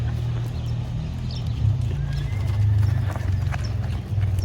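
Horse hooves clip-clopping in a steady rhythm during pole pen training, close and clear, with an occasional whinny and a low rumble underneath.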